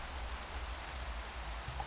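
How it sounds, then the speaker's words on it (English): Rain falling in the Minecraft video game, a steady soft hiss of rainfall that stays even throughout, fairly quiet and with no voices. "Oh come on, rain, go away."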